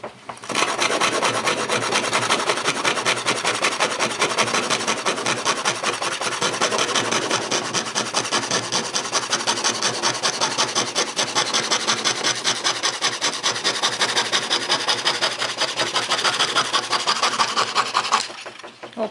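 An antique foot-pedal powered scroll saw rasps through wood in a fast, even reciprocating buzz, loud and close, running nonstop for about eighteen seconds before cutting off.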